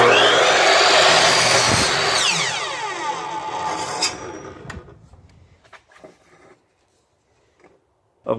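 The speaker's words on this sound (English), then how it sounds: "Now I'm going to set up my miter saw so I can demonstrate a cross cut." Miter saw cross cutting wood: the blade whines up loudly, bites through the board, then spins down to silence, followed by a few light knocks and clatters.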